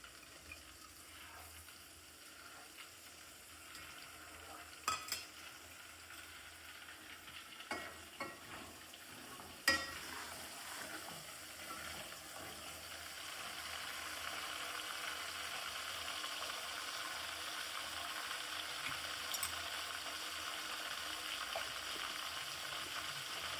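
Washed curry leaves drop into hot oil for dal-bati, a few scattered clinks and stirs giving way to a steady, building sizzle that fills the latter half, fairly quiet.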